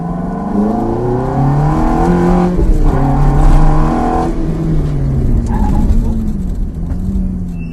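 A Lamborghini Gallardo engine revs up and down through gears, loud and close, with a brief downshift dip before climbing again.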